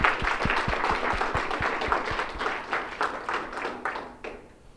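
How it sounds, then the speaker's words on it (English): Audience applause at a community talk on healthy neighborhoods and food deserts, a fairly steady spread of clapping with a few sharper individual claps up front, fading out toward the end. "Can we get a kind of round of applause on that?"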